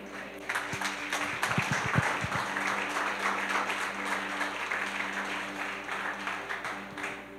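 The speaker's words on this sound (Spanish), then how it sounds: "Ese aplauso no era para mí" Church congregation applause during an evangelical service at CCI Luz y Vida in Barinas, Venezuela: a sustained, even wash of clapping from a large group, moderately distant, with a few sharper claps early on.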